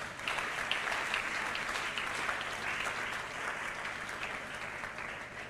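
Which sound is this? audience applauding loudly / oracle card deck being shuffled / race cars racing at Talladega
audience applauding loudly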